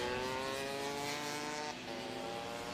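Racing scooter engines drone and rev steadily at the Whilton Mill six-hour endurance race, a loud and continuous buzzing from several machines with no break.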